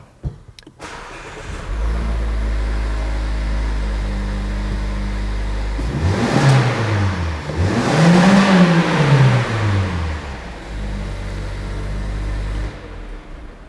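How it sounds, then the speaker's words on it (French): A 2016 Toyota Yaris compact sedan engine cranks briefly and catches, then settles into a steady idle with two revs rising and falling, heard close and loud with no talking. "Allons-y avec un petit peu un démarrage moteur."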